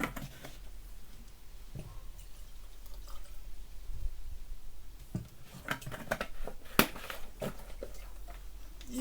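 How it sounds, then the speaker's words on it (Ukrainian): Spring water is poured into a honey lemonade mixture, making a continuous trickling, splashing stream with scattered drips and small clinks, close and fairly steady throughout. "Додаємо у нашому випадку джерельна вода."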